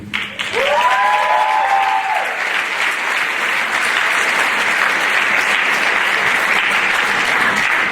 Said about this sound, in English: One more big round of applause for the great.